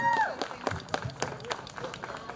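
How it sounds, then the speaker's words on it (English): A crowd at an outdoor motorcycle ride event claps before the national anthem, scattered fairly faint applause with distinct individual claps, mixed with voices and cheering over about two seconds. "Big round of applause for this young lady here."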